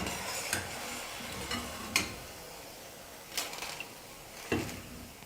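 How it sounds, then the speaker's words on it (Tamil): Small rice flour and potato balls deep fry in hot oil with a soft steady sizzle, broken by a few sharp clicks and scrapes of a utensil stirring the pan. "இதே போல் மீதி இருக்கிற எல்லா மாவையும் சின்ன சின்ன உருண்டைகளாக எண்ணெயில் போட்டு பொரிச்சு எடுத்துக்கலாம்."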